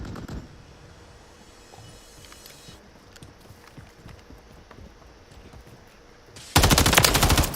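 Video game gunfire in a multiplayer battle over objectives, dense rapid bursts of small clicks and pops through the middle, then a loud, harsh sustained roar of firing at the end. No voices are heard.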